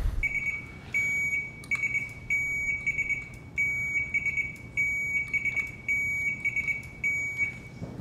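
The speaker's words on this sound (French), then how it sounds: "On va tester vos buzzers encore." Quiz buzzers sound in quick succession during a test, about a dozen short, loud electronic beeps in a fairly regular rhythm in a quiet room.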